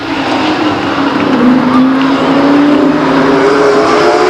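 Race cars on the Stockton 99 Speedway oval, a loud continuous engine roar as the pack streams past, pitch shifting slightly as the cars sweep by, with no clear talk.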